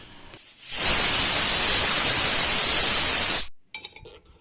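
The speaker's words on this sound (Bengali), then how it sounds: "সেই তেলের মধ্যেই প্রথমে আমি পেঁয়াজটাকে ভেজে নেব" Chopped onion drops into hot oil in a pan, where bitter gourd was just fried, and sizzles with a loud, sudden hiss that holds steady for about three seconds, then cuts off abruptly.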